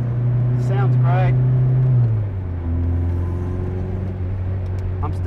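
A 1973 Alpine A110 rally car driving on a downhill road in France, its engine droning loudly and steadily before the pitch drops sharply at a gear change, with a person talking over it.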